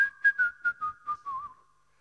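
A man whistles a short falling run of about seven tones, mimicking a woman whistling in church, clear and solo with brief gaps between notes fading at the end.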